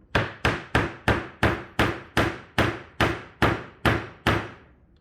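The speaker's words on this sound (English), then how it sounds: "Just running the chisel in there just for a little bit cleans that right up." Eleven sharp, evenly spaced mallet taps drive a chisel into a groove in wood while cleaning up a stop dado, each strike ringing briefly and decaying, close and loud with no talk.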